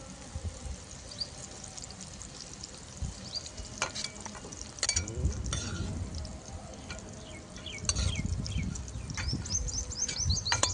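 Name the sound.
garlic sautéing in oil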